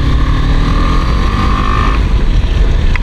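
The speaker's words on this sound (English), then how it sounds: "today I am test riding the BMW GS310" BMW G 310 GS motorcycle engine on a test ride in Nepal, a loud, steady close engine drone mixed with heavy wind buffeting against the microphone, no speech.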